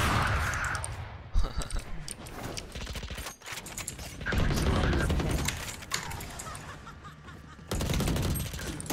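Gunfire in a ranked match of the video game Valorant, rapid bursts of automatic shots and sharp cracks that stop and start across the stretch, loud and close, with brief quieter gaps between volleys.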